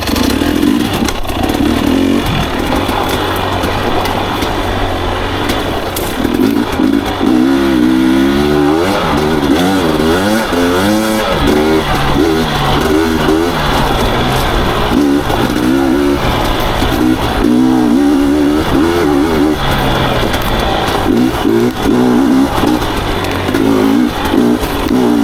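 A dirt bike at an enduro event labours along a wooded trail, its engine droning loudly and continuously with repeated rising and falling revs and some clatter, heard close from the rider's position.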